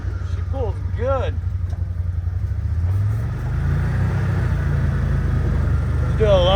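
A 2023 Gen 2 CFMoto ZForce 950 UTV fitted with an RNG clutch kit pulls hard in high range, its engine droning loud and rising steadily in pitch as people talk and cheer over it.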